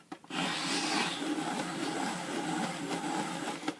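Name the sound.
hand-cranking paper through a quilling strip cutter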